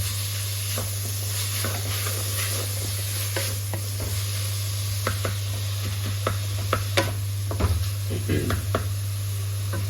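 Fenugreek and green chillies roasting in a pan for garlic methi (lasuni methi): a steady low sizzle and hiss with repeated scraping stir strokes and light knocks of a spoon against the pan, close and continuous.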